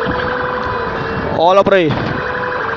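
A fire engine siren wails loudly as a truck arrives at a large store fire at an outdoor market, rising and falling over a steady background of crowd noise and engine rumble while someone talks over it.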